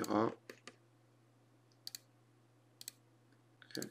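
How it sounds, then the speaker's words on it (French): Computer mouse clicks while working in Revit: a few sharp, faint clicks spaced out in pairs, with a voice briefly at the start and a steady low hum underneath. "Et là, je clique. Je clique."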